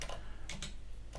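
A terminal command typed on a computer keyboard: a few quick, quiet key clicks in short bursts, close up, with no talking.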